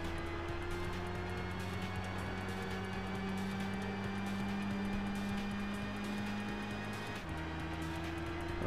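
A Gran Turismo race car engine drones steadily at high revs, then drops in pitch as it shifts up a gear near the end, a continuous moderately loud whine with no talk.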